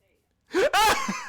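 One loud, close human sneeze with a sharp inhaled gasp just before it, alone against a quiet background.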